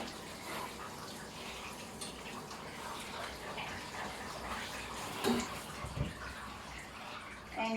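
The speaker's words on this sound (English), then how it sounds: "always make sure you've got them completely rinsed out" Running water rinses a dog during a bath, a steady close gush and splash with occasional louder bursts and drips, and a voice talks quietly under it.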